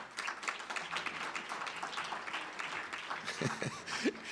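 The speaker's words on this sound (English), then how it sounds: "clap now" Scattered audience clapping at a talk comes through fairly faint and distant, uneven in density, with a few brief voiced sounds near the end.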